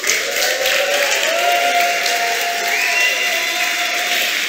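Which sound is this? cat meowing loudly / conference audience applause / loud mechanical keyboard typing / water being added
conference audience applause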